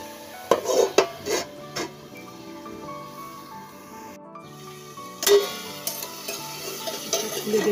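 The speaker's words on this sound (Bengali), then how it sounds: "দিয়ে ভালো করে নাড়াচাড়া করি।" Spatula stirring stalk greens and spinach in a metal pan, producing intermittent scraping and clinking strokes with a faint sizzle beneath, loudest in short bursts near the start and again toward the end.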